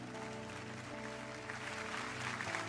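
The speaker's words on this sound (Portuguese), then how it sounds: "Você pode aplaudir o Senhor?" Church congregation applauding during a Pentecostal-style service, a dense steady wash of clapping mixed with sustained musical tones throughout, fairly constant in level with no voices standing out.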